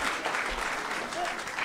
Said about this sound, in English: can we please give a round of applause for my husband?